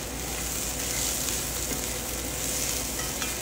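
Rice sizzles and fries in a hot pan as it is stirred, a steady soft crackle with faint scraping, no talking.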